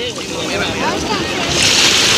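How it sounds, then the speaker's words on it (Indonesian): Small ocean waves wash in at Sanur beach in Bali, a steady rushing surf with wind noise on the microphone that swells louder toward the end, and people talk faintly underneath. "ombaknya yang kecil aja ya yang ditunggu ya"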